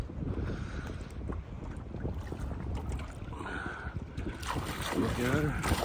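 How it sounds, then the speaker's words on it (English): Strong wind buffets a boat on a lake during pike and walleye fishing, a steady rough rushing and rumbling without pause. "It is really windy."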